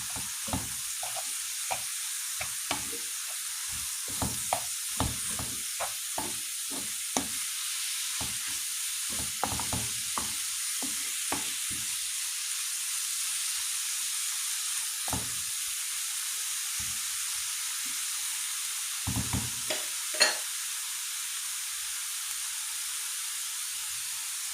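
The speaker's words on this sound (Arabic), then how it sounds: "نديرو هاد شويه ديال الكفته حتى هو نبقاو نحركوه بحال هكا تيتفرتت كله مع الخضر" Kofta and vegetables frying in a pan, a steady sizzle with repeated scraping stirs in irregular bursts, close and fairly loud throughout.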